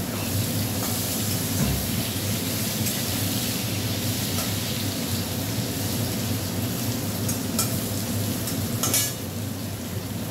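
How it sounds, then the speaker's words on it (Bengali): Potatoes and onions fry in a pan, a steady dense sizzle running without a break and close up, with no one talking. "পেঁয়াজটা দিয়ে আলু আর পেঁয়াজটা ভাজা।"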